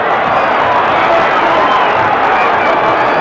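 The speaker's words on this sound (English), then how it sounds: "Crowd exhorting Ali on." Dense, loud roar of a boxing arena crowd cheering on Muhammad Ali in round nine against Bonavena, a steady wall of voices with no breaks.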